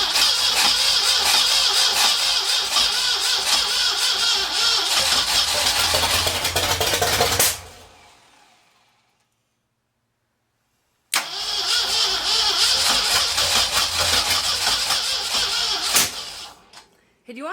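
A 1964 Ford F100 4x4 engine roars loudly nearby, running rough and raw, then cuts out into a few seconds of silence before firing up again and running hard once more.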